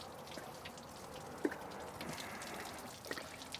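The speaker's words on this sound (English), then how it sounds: "I'll just let it dripping." Water dripping from a drained water reservoir: faint, sparse drips fall irregularly, with one clearer drop standing out, in a quiet setting with no talk.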